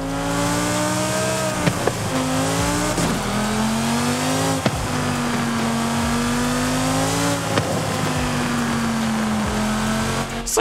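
A 2020 Lamborghini Huracán STO in Forza Horizon holds a steady, loud engine drone with rising and falling revs as gears change, sharp shift cracks between pulls, and a continuous roar throughout.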